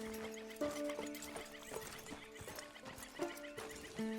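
Horse in Red Dead Redemption II neighing with clear pitched whinnies, accompanied by clip-clopping hooves, close and fairly loud, with no speech over it.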